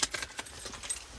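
A set of keys for a 2018 Ford Ranger 3.2 TDCi Wildtrak pickup jangles briefly and quietly, several close metallic clinks in quick succession.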